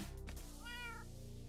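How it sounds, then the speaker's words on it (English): A cat meows once, a short rising-falling call heard up close over a low steady hum, with no talk. "You're a kitty cat."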